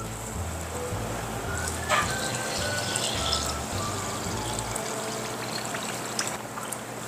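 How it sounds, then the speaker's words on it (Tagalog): Water pours steadily into a mixing bowl of kutsinta batter with a continuous splashing, trickling sound, close by, with a few clinks partway through. "Next ay maglagay tayo ng tubig."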